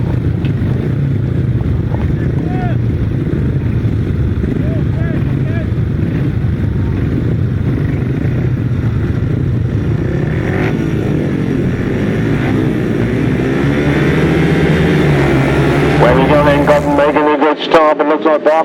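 Several grasstrack racing motorcycles roar together at a race start at the 2019 Frittenden Flyer meeting, a dense, steady engine drone with rising, revving tones toward the end and a commentator's voice over it.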